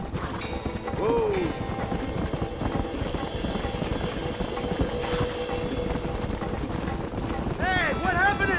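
Horses' hooves clip-clop at a gallop in the Red Dead Redemption western game, steady rhythmic hoofbeats with a brief whinny, under voices shouting and a busy mix of game effects.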